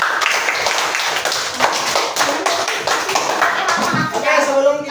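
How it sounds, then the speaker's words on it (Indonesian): Children clap their hands together in a classroom, a fairly dense burst of uneven claps with kids' voices chattering underneath throughout. "Tepuk tangan tuh semuanya."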